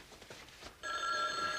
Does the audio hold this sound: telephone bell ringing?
yes